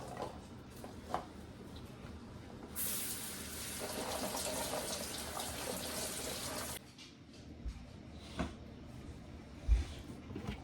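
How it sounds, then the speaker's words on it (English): Cranberries being rinsed under a running kitchen tap, a steady rush of water that rises sharply for about four seconds, then drops back to a quieter trickle with a few small knocks and splashes. "We are going to start by rinsing our cranberries."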